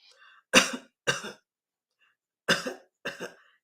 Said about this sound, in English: It was just a dry cough.